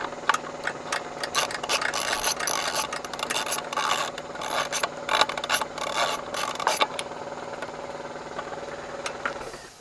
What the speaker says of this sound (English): we'll come over here and take this other tank bolt out